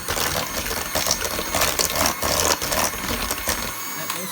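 An electric mixer whirs steadily while it beats Jamaican Christmas cake batter in a home kitchen, a loud, continuous buzzing rattle up close with no pauses.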